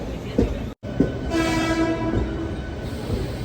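A train arriving at a crowded station rumbles nearby with rolling wheel noise, and a long horn sounds partway through amid the busy platform.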